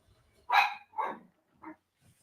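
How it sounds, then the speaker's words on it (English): A dog barks three times at some distance, two quick barks followed by a softer third, in otherwise quiet surroundings. "That dog talking noise over there."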